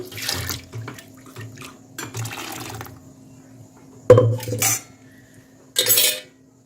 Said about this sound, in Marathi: मिक्सरच्या भांड्यात पण पाणी टाकून घेते आणि हे पाणी पण मिक्सरचं भांडं वेचून या पातेल्यात टाकून घेते